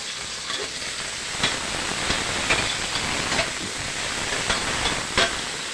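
Tomato sautéing in a pan for mung beans with pork and malunggay gives a steady, close sizzle and hiss, with faint stirring taps through it and no talking.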